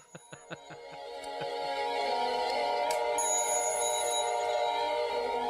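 A telephone rings in a repeated bell-like trill, first in a few sharp bursts and then a sustained, loud ringing that fills the rest of the moment.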